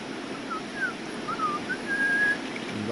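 Whistled language from Amazonia: a series of thin, short rising and falling whistled phrases, then one longer sustained tone, soft against a steady background hiss.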